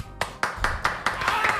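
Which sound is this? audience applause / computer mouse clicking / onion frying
audience applause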